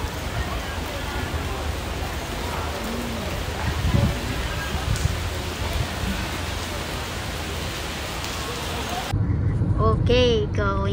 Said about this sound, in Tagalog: Raining guys.